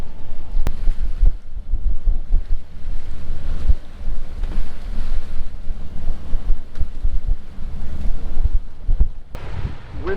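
Steady wind roars across the microphone while sailing on the Aegean Sea, with low rumbling gusts and water wash from the boat filling the whole stretch at a loud, even level.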